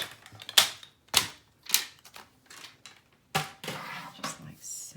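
Paper being cut into a half-inch strip for a triple pocket folio craft project, a few sharp separate snips and slicing strokes spaced across the clip, close and fairly crisp.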